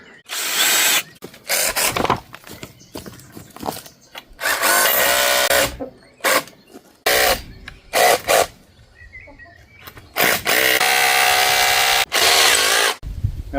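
A cordless power drill boring holes in a repair job around a chicken run by a pig barn, whirring in loud repeated bursts of a second or two separated by brief pauses, with ratcheting clutch clicks between runs.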